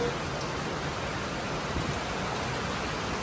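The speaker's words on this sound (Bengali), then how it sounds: "জোরে বৃষ্টি হচ্ছে" Heavy rain pours steadily outside a hotel entrance in Varkala, a dense, even hiss of falling water with no pauses and no voices.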